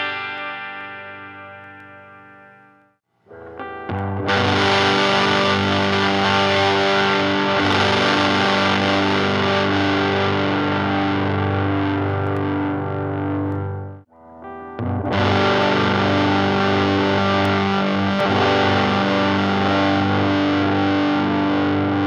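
Fuzz pedal on electric guitar played through a Fender 007 Bass Breaker amp, loud and thick with sustained distorted chords, a brief quiet attack at the start and a short break midway before the heavy fuzz returns.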